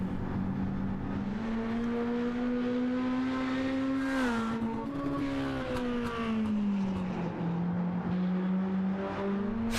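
The number 99 mini-stock race car laps the track, its engine droning steadily and loud, the pitch rising and falling as the driver works through the throttle, with no voices.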